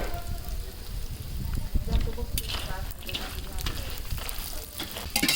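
Turmeric root roasting in oil, a continuous crackling sizzle with scraping stir sounds and sharp pops, fairly close and steady, with faint background voices.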